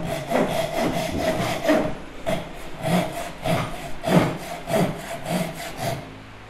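A compact Ryoba Japanese pull saw cuts a wooden tenon in a close, steady rhythm of rasping strokes, about two per second, with no voices.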